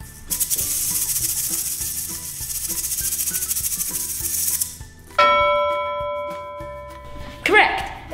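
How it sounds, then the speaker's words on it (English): A shaker rattles in a fast, steady stream for about four and a half seconds, then stops as a bright chime and musical tones take over, with a short answering voice near the end. "Correct! It's the shaker!"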